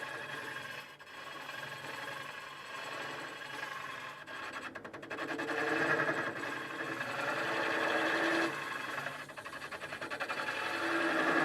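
A woodturning tool chatters and bounces while hollowing a vase on a lathe, a continuous rough scraping whir with rising intensity midway, close and steady.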